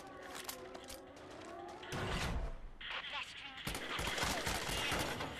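Gunfire in the WWII VR shooter Medal of Honor: Above and Beyond, a run of moderate shots and impacts mixed with game noise, with a voice talking over it.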